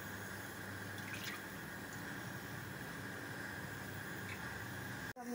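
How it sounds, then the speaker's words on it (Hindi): Cooking oil poured into a pan before frying eggplant and potatoes, a faint, steady liquid hiss lasting several seconds, ending in a brief sharp knock. "सबसे पहले इसमें जाएगा ऑयल।"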